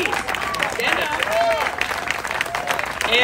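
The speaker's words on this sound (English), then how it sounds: "Let's give them a big round of applause." Audience applause at a Veterans Day ceremony at Pasadena City College, a steady dense wash of clapping from a crowd, sustained and fairly loud throughout, with voices and whoops mixed in.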